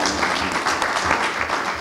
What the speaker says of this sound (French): Et ça, il faut l'applaudir.